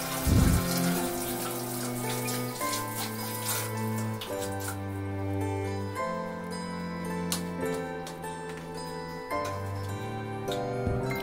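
A scarf being rinsed and washed by hand in plain tap water, with running water and splashing continuing steadily at close range throughout.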